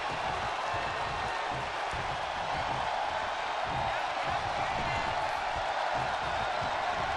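Arena crowd cheering in the WWE 2K23 wrestling video game during a tag team elimination match, a loud, unbroken roar of voices that stays constant throughout.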